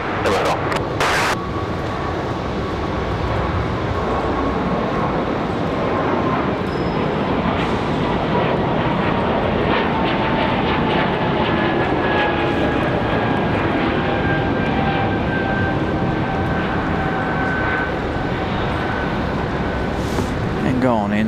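A JetBlue jet airliner takes off from Raleigh-Durham airport in snowy weather, giving a loud, steady broadband roar that fills the whole stretch without easing, with faint radio voices underneath.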